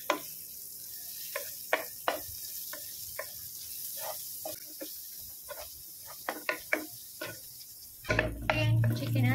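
Onion and ginger sautéing in butter in a pan, a steady close sizzle broken by frequent sharp scrapes and clinks of a utensil stirring against the pan, with a louder burst of sizzling near the end.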